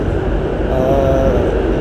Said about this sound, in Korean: 준고속 열차이기 때문에 소음이 좀 있을 수 있는데